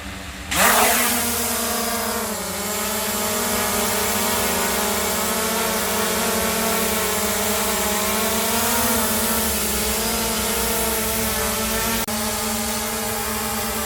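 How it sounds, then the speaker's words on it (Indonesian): An SJRC F11 4K Pro drone hovers and flies nearby outdoors, its motors producing a continuous, steady buzzing whine that wavers slightly in pitch, fairly loud and uninterrupted, with no talking. "Mantap ya, drone-nya stabil banget."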